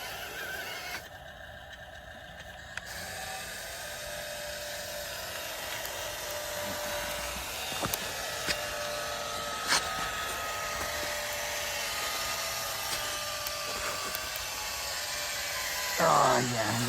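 An electric motor whines steadily and high-pitched as a Double E E-590 Mercedes Arocs 1/20 scale RC dump truck sits stuck in sand, straining for the whole stretch with a few faint clicks and rattles.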